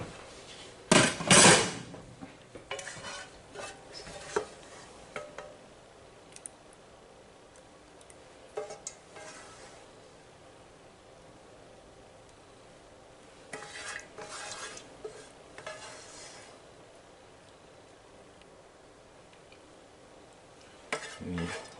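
A spoon scrapes and clinks against a baking dish while vodka sauce is spread over baked rigatoni, sparse quiet taps and stirring scrapes in short bursts separated by near silence.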